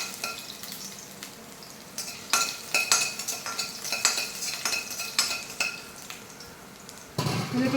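Chopped ginger and garlic sizzle and fry in hot oil while a spoon stirs and scrapes the pan in repeated bursts, with a louder hiss near the end.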